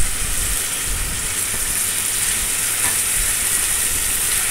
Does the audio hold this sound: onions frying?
yes